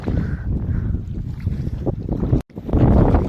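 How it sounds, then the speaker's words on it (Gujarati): Strong wind buffets the microphone outdoors near flooded rainwater by a check dam, loud gusty rumbling that rises and falls, with a brief dropout near the end. "અને પવન પણ મિત્રો ખૂબ છે આજે"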